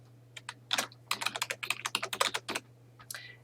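Someone types an email address on a computer keyboard, a quick run of crisp, close key clicks in uneven bursts over a steady low hum, with no talking.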